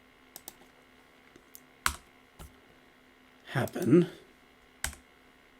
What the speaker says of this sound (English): I'm going to hit click and hit return